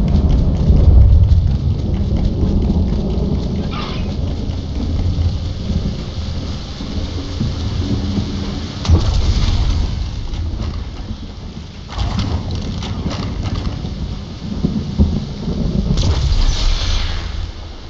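Thunderstorm ambience in Fortnite Lego, with steady rain and repeated rolling thunder swelling around the midpoint and near the end, a continuous loud weather bed with no talking.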